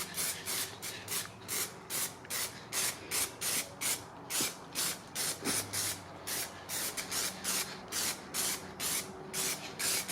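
A small aerosol spray can lays down black 2-pack epoxy primer on Ford ZF Fairlane parts in a rapid series of short, close hissing bursts, each separated by a brief gap.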